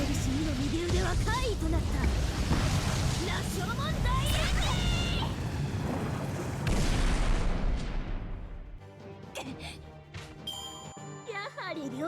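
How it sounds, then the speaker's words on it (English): Rocket punch attack in the Fate Grand Order video game: dense booming impacts with chiming, jingling effects and a game voice, followed by sparkling ding tones as the noise drops away. "Another rocket punch!"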